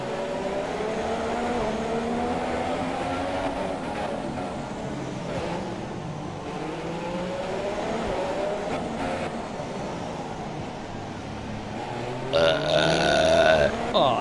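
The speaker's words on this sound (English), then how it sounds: "there's a Red Bull burp for you" A man letting out a long, drawn-out burp after drinking Red Bull, heard over the continuous whine of race car engines from the F1 2017 racing game at the Monaco Grand Prix.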